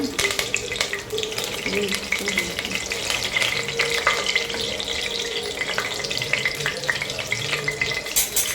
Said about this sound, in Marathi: तेल चांगलं गरम झालेलं आहे बघा. कडकडीत गरम झालेलं आहे. त्याच्यामध्ये कढीपत्ता टाकायचा